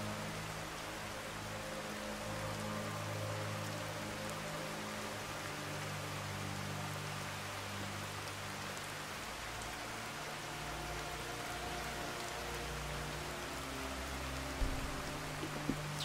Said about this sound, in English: This rain has to stop.